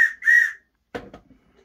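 A Hornby model train whistle gives two short, bright toots, then a brief mechanical clunk follows after a pause, all close and clear in a quiet room.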